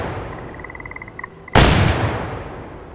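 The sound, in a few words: gunshot at a wild duck in the video game Way of the Hunter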